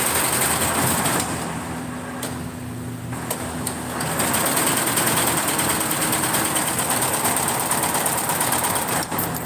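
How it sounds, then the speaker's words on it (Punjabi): Embroidery sewing machine stitching a design onto a suit, running as a steady, continuous mechanical whir with a rapid needle rhythm throughout, close and fairly loud with no talking. "ਇਹ ਚੱਲਦੀ ਹੈ ਜਿਹੜੀ ਮਸ਼ੀਨ ਤੁਹਾਨੂੰ ਇੱਕ ਵਾਰ ਮੈਂ ਚੱਲਦੀ ਵੀ ਦਿਖਾ ਦਿੰਨੀ ਹੈ ਜੀ"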